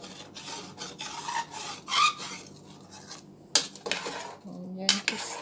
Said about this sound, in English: then you scrape down anything on the sides